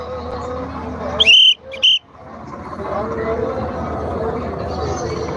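Two sharp, loud whistle blasts sound close by during a Sikh nagar kirtan procession in a village, the second shorter, over a steady background of crowd murmur and voices.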